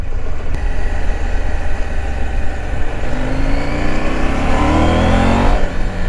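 A 2019 KTM 790 Adventure motorcycle engine in the A2 35 kW version pulls up through the revs, its tone climbing steadily over a constant ride noise with no talking.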